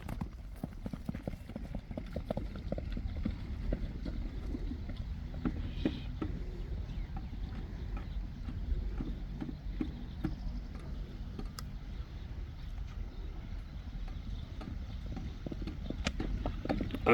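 A ridden horse trots in an open setting, its hooves clip-clopping in a steady, continuous rhythm for the whole stretch over a low rumbling background.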